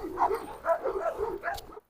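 Dogs among a crowd of about a hundred give a run of short barks and yips, loud and close, with whimpers mixed in, ending abruptly.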